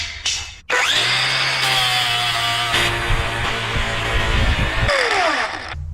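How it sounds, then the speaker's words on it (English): A Sefaspe MIG 250D welder works on a thick chunk of steel, a loud, steady buzzing hum with crackling and shifting tones that starts abruptly after a short gap and runs on without speech. "Should we weld that hunk on there somewhere?"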